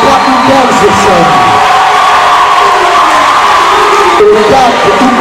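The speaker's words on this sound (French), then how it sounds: "est-ce qu'on peut applaudir les galactiques de l'État Oubel, s'il vous plaît?" Loud crowd at a school debate competition cheers, whoops and shouts continuously, a dense roar of voices with some clapping mixed in, filling the room throughout.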